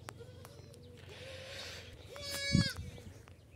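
Goats bleat several times, their wavering calls overlapping at close range, with one louder cry standing out near the end over a low background hum.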